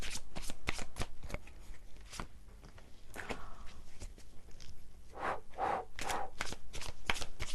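Tarot cards being shuffled up close, with repeated crisp riffling and flicking bursts at an uneven rhythm.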